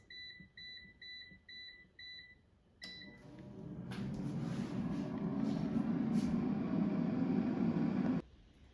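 An air fryer cooking frozen langostino tails, with a series of electronic beeps as it is set at 400°F, then a fan starting up into a steady whirring hum that runs for several seconds before stopping abruptly.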